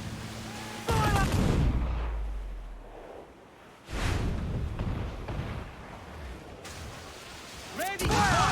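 Ship cannons fire in Assassin's Creed IV Black Flag, heavy booming blasts at roughly three-second intervals, each followed by rumbling decay, with shouted voices and battle noise between the volleys.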